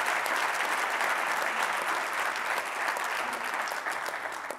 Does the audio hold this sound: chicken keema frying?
no